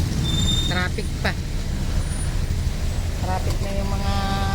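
Heavy rain over slow, congested road traffic with buses and cars, a steady broadband wash of rain and engine rumble throughout, with a few brief horn-like or brake tones rising out of it; a voice talks over parts of it.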